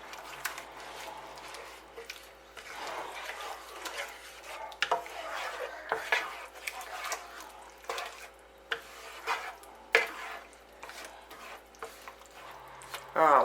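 Cream being stirred into spaghetti marinara sauce in a pot, soft irregular clinks and scrapes of a utensil with small drips, close and fairly quiet.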